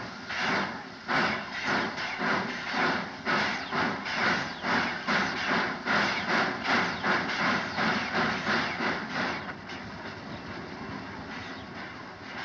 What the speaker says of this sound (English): cab forward 4178 moves down the track to pick up her train